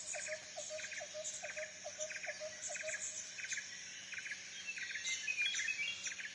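Birds chirp in the outdoor jungle ambience of the video game Metal Gear Solid 3: Snake Eater, a repeating rhythmic series of short, fairly faint tweets over a low insect-like background hum.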